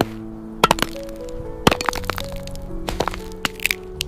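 A series of sharp cracks and snaps, irregular and close, as a tough cactus is split and broken apart.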